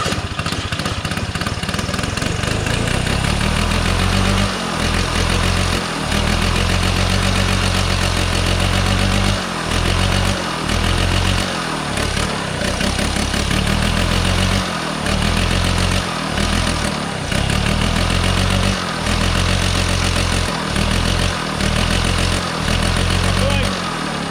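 A rare Polaris Colt 303 snowmobile with a rotary engine running roughly, a loud continuous motor drone with repeated dips and surges as it is choked, voices occasionally over it.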